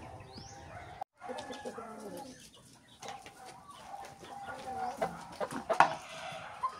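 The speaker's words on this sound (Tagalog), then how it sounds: "Malalaking manok po ito." Large breeder chickens cluck and murmur softly nearby in the afternoon, with scattered rustling and a few sharper calls toward the end.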